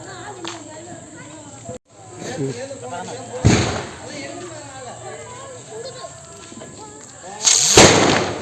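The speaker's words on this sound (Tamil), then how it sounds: "வெடிச்சிருச்சு" Loud Diwali firecracker bangs burst out twice amid excited children's shouting and chatter outdoors, with a sharp crack near the end.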